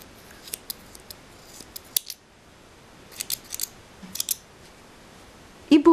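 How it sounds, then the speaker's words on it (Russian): Scissors snipping the tail of thick knitting yarn: a few sharp, close metallic clicks in small clusters separated by quiet pauses, with a louder clatter at the very end. "Отрезаем хвостик нити."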